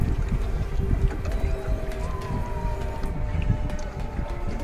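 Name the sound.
tourist boat on Venna lake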